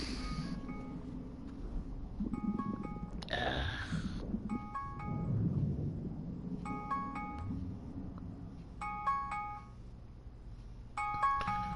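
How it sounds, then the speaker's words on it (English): A phone's pill-reminder alarm chimes in short repeated bursts of bright electronic tones, several rings spaced a second or two apart over a steady background hum. "Pill alarm."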